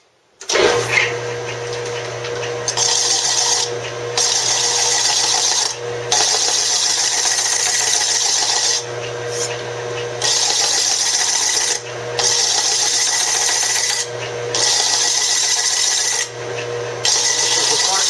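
Sanding a metal generator cover from an Allstate Puch 250 Twingle motorcycle on a towel: steady, loud, close abrasive rasping in long strokes broken by about six brief pauses.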